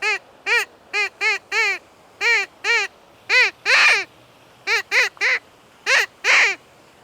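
Handmade duck call blown at a pond, giving a series of loud, nasal quacks in short bursts with brief pauses, some calls drawn out longer, heard close and alone.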